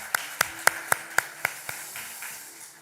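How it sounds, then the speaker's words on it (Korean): Congregation at a Friday night church service claps in a slow, even rhythm, about seven distinct sharp claps spaced evenly apart, then the beat trails off into quieter, looser taps. "하나님께 감사와 영광의 박수 올려드립니다."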